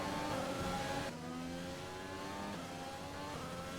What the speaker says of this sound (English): Car feels really nice as we're starting to close down on that racing point of Lance Stroll